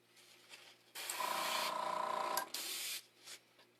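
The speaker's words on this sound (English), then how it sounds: "I'm going to spray this stuff on here." A steady hiss of an aerosol spray can, one long burst of about two seconds, then a shorter one, close and fairly loud.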